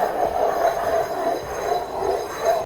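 A ceramic coffee mug slides and rubs across an epoxy surface, giving a continuous close squealing, grinding scrape that rises and falls in pitch for a few seconds.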